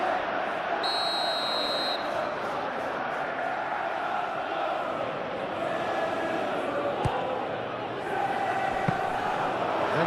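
Stadium crowd noise in the football video game PES 2021, a steady continuous roar of many voices with a few brief whistles and tones, swelling slightly near the end.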